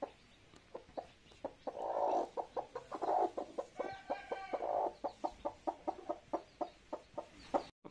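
A broody hen sitting on six eggs clucks in a steady run of short, repeated calls, with a few longer throaty notes early on. The sound is soft and close, with no other sounds.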